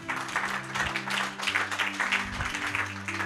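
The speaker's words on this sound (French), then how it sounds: "Acclame la parole du Seigneur." A church congregation applauding at a Bible study on Genesis, a dense, sustained round of clapping from many hands, fairly close and even in level, with a low sustained tone underneath.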